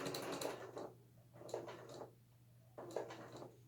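A sewing machine stitches a placemat in short, quiet mechanical whirring runs, three separate bursts with pauses in between, heard up close over a low hum.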